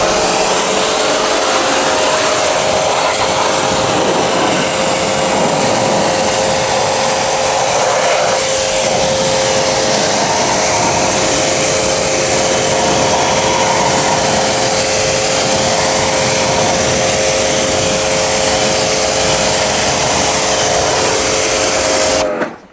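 A washer rinses foam off a car wheel, giving a loud, continuous spray hiss over a steady motor drone that runs unbroken for about twenty seconds and then stops.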